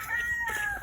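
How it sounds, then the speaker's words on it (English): A rooster crows once, a short clear call heard at a moderate distance, with faint clucking and farmyard ambience around it. "Chickens."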